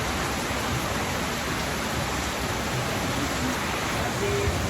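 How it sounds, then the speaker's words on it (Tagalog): Heavy rain pouring down at a farm, a loud, dense, unbroken hiss that fills the whole stretch with no pauses. "grabe na yung ulan ulit dito sa farm."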